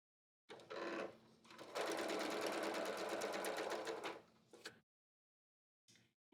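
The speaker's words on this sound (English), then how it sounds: "I'm going to go ahead and sew around this" Sewing machine stitching around a skirt hem, a steady whirring run in two bursts with a brief pause between, close and fairly loud, then a short final buzz of stitching.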